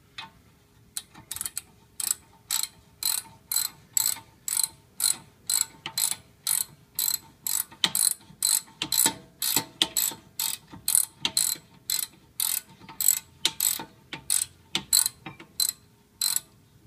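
A 17mm socket ratchet wrench backs out front brake bolts on a 2002-03 Acura TL Type S, clicking in a long run of rapid, regular, close ratchet strokes with brief pauses between bursts.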